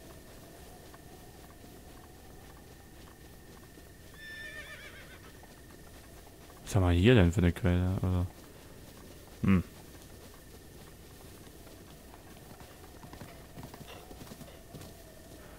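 A horse neighs loudly in The Legend of Zelda: Breath of the Wild on Nintendo Switch, a rising whinny followed by a short snort, over soft hoof clip-clops and quiet game ambience, with brief talk earlier.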